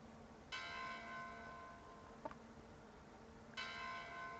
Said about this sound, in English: Lady Lena's summoning bell. She must be awake.